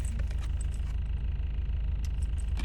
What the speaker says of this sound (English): It's still gonna rumble. Sorry, my car is annoying.